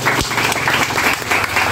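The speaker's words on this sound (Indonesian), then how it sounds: "Kasih tepuk tangan lebih meriah ke Tuhan." A congregation applauds at a Christmas sermon, a steady, full wash of clapping from many hands that stays loud and even throughout, with a faint low murmur beneath.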